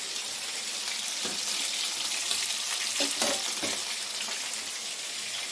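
Bhola fish fries in a pan of oil, giving a constant bright crackling sizzle with a few louder spatters and scraping touches, close and loud throughout, no voices.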